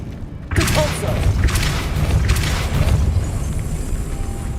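A Depulso force spell cast in the video game Hogwarts Legacy lands as a sudden, heavy boom and burst, followed by a steady rumbling wash with a few soft thuds.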